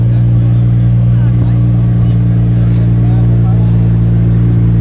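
A supercar's engine at a supercar event in Barrington, a loud steady low rumble holding throughout, with outdoor crowd noise and people talking nearby.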